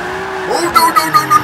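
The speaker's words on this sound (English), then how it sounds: "Hold this drift right here." A car holds a drift in Forza Motorsport 5, its engine note climbing before a series of short, sharp tire squeals chirp in a quick uneven rhythm, loud and close.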